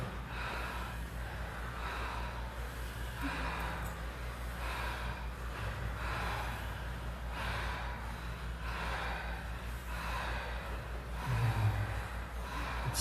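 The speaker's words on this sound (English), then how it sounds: "now we're increasing the volume of our breath, little by little" Deep, rhythmic breathing exercise with loud, audible breaths repeating roughly every second or two, steady and continuous throughout with no talking.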